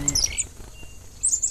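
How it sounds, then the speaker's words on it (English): Birds sing in trees close by, bright high chirps and tweets in short bursts at the start and end of a quiet stretch, with no talk. "the birds are singing"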